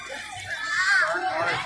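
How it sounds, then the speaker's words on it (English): A crowd mills and filters in at Epcot, a dense bed of mixed chatter with children's voices rising above it, steady and close, swelling slightly toward the middle. "I'm going to stand back here while the crowd filters in"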